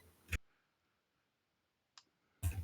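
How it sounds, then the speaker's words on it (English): Computer mouse clicks, two sharp close clicks separated by a quiet pause, with a fainter tick just before the second, and no talk. "I was clicking on like the side of it"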